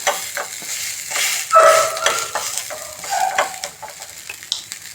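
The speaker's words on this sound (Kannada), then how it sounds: "ಇದನ್ನು ಈಗ ಉಲ್ಟ ಮಾಡಿ ಬೇಯಿಸುವ." Breakfast batter flipped over in a pan sizzles and fries steadily, with a few light scraping and stirring touches over the crackle, close and moderately loud.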